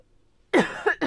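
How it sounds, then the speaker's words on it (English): A single sharp cough bursts out after near silence, followed by two smaller coughs in quick succession, close to the microphone. "I'm gonna cough again."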